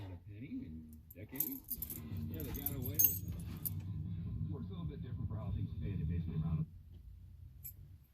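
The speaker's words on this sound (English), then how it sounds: "now I'm going to get my keys out" A set of keys jangles and clinks as it is pulled out in a van, bright metallic rattles scattered over a low steady background hum that drops away near the end.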